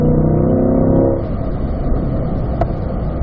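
A race car engine on a road course as the driver shifts up to fourth gear, with a loud revving engine note that breaks off at the gearchange, then a lower rougher drone and one brief sharp click.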